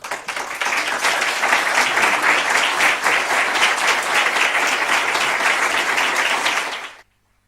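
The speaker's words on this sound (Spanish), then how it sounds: "Pues hermano Viana, que estos aplausos sirvan de agradecimiento por tu discurso y por tu excelente preparación" Sustained audience applause at a Jehovah's Witnesses weekend congregation meeting in Spain, following a talk: dense, steady clapping from a crowd that holds evenly for about seven seconds, then stops abruptly, with no voices over it.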